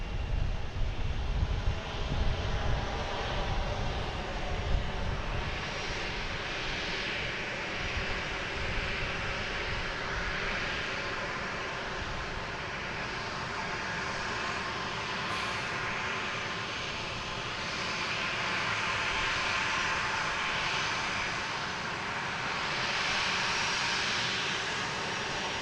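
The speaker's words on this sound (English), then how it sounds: "Our next taking off here is a JetBlue heading to Tampa." A JetBlue Airbus A220 jet takes off from Boston Logan International Airport, a steady, distant engine roar with wind noise that swells gently and holds for the whole stretch.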